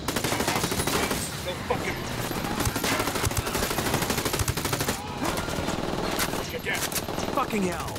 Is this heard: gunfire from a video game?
yes